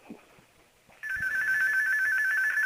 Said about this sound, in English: the phone was ringing on the other